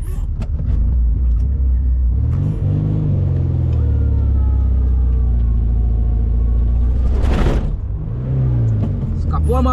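Car engine revving hard while trying to reverse out of deep sand, a loud, continuous rumbling drone that rises and falls in pitch, with people talking over it.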